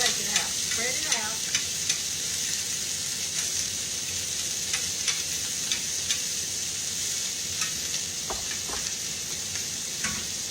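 Pork and onions hiss loudly in a smoking-hot pan during a stir-fry, a dense continuous sizzle with occasional sharp pops and light taps of a utensil, and no one talking.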